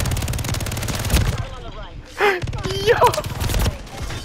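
Rapid Uzi machine gun fire in a video game, fast close bursts of automatic shots that stop and start, with someone shouting and talking between bursts.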